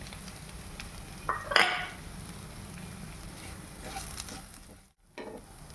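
Cooked, cut potatoes stirred into sautéed onions in a pan for spinach frankie bites, giving a soft sizzle with a brief scraping burst of spoon against pan, then quieter frying.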